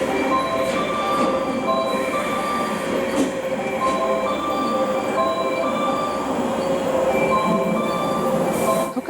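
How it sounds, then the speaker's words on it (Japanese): A JR Super Yakumo limited express, the last JNR-type limited express electric train, pulls into a station with a loud, steady rumble of wheels and traction noise, with faint wheel squeal near the platform and no voices. "そしてヤクモ20号が入ってきました。"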